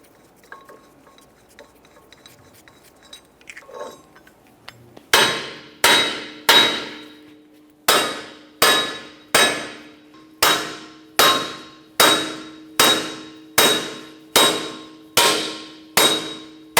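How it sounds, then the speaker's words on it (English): A hammer strikes metal about a dozen times in a steady rhythm, each blow a loud ringing clang, after a few quieter taps and scrapes, breaking free a Subaru Outback front axle nut. "we can continue on with a hammer as necessary"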